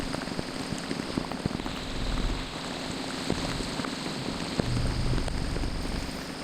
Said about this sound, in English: I mean, that is just intense rain.